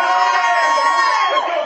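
A live concert crowd at Jammin Java yelling and cheering, a loud, close mass of overlapping shouting voices sustained throughout before easing slightly at the end.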